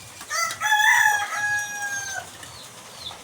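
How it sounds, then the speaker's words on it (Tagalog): A Texas breed rooster crows once, loud and close, its call rising and then trailing off, with faint farmyard noise underneath. "Mga Texas po guys yung mga manok dito sa bahay eh."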